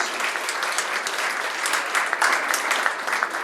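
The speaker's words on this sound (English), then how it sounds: "Please, one more time, let's put our hands together and give them another round of applause." Audience applause for presenters at a lightning-round session, a dense, steady wash of many hands clapping at once, loud and sustained throughout with no pauses.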